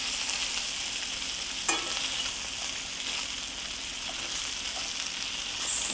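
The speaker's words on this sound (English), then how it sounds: "the smoked sausage is starting to get good and brown" Smoked sausage browning in a pan sizzles in a steady, dense hiss, with one brief clatter partway through and no talking.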